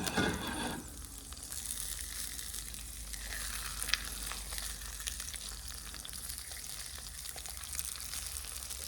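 A birria taco fries in a cast iron skillet, giving a steady, gentle sizzle and crackle that carries on without a break, with a brief clink of utensil early on.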